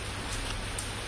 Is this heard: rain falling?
yes